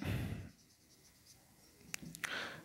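A pen or pencil writes out a math solution by hand on paper, giving faint, close scratching strokes with a few sharper taps between quiet stretches.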